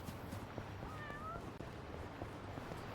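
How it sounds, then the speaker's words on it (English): A cat meows once in Yakuza: Like a Dragon, a short rising-then-falling call, fairly faint and set against a constant low background hum with no talking. "So this must be Hiro-san's first cat, Robson-chan."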